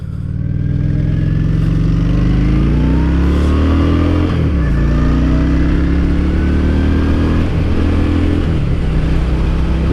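A Honda Shadow Spirit 750cc motorcycle engine runs steadily while riding on a chilly day, with a loud, continuous low rumble and a few shifts in pitch through the ride.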